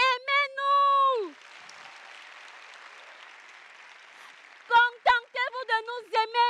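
Audience at a live comedy show breaks into applause, a steady broadband patter lasting a few seconds between stretches of a woman's animated speech before and after.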